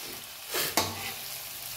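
Onions sautéing in a pan for spicy vermicelli, a steady soft sizzle with a brief stirring scrape and a sharp clack midway, close and alone without voices.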